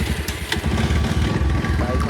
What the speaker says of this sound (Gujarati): બાઈક સ્ટાર્ટ થઈ ગઈ